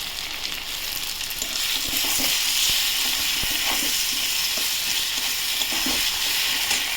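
Chili powder, turmeric and chopped tomato fry in a pan with a steady, bright sizzle. Occasional sharp clicks and scrapes of stirring rise above the hiss.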